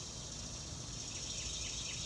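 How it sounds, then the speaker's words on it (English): Cicadas chirp outdoors in a steady, high, shimmering drone that holds at an even level from start to finish, with no voices. "Listen to the cicadas"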